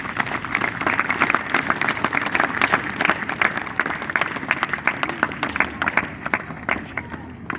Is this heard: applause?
yes